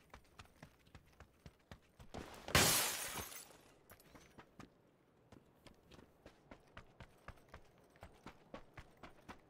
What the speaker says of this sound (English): I keep hearing his footsteps.